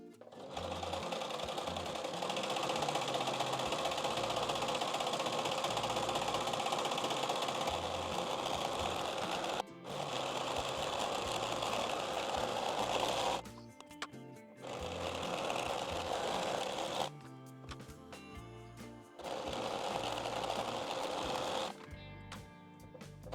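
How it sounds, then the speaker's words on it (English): A serger stitches along the edges of a fabric apron in long, steady runs of loud, fast mechanical whirring, broken by short pauses and brief clicks between passes. "we're going to go ahead and serge all the edges of the apron"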